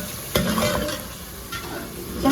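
Masala stir-fries in desi ghee in a pan, giving a loud, close, continuous sizzle broken by sharp scrapes and clinks of the stirring spoon, with no talking.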